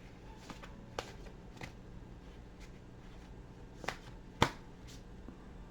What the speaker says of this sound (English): Okay, I'll give it one more shuffle.